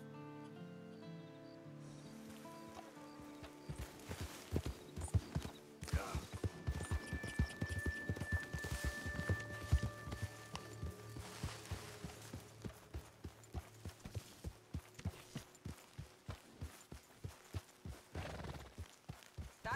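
Steady clip-clop of horse hooves in Red Dead Redemption 2 builds to a quick, regular rhythm, with a faint musical drone underneath and no talking.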